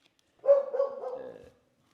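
A single short dog bark-yowl from a household dog, about one second long, close and fairly loud against an otherwise silent room.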